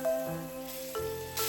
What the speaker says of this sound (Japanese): トマト2個をピューレ状にしたものを加えて炒めます